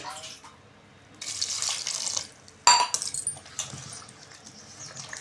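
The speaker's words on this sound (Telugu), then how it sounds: "అలాగే సాల్ట్ రాళ్ళు ఉప్పు మనకు తగినంత వాటర్ వేసుకొని ఇవన్నీ కలుపుకోవాలి" Water poured into a vegetable sambar mixture with salt: a steady splashing pour that stops briefly, then a sharper second splash and trickle, with no talk.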